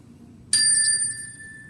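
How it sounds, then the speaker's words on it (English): Small chime struck once during a family yoga class, a bright clear ring that sustains and slowly fades over quiet room tone. "And the chime,"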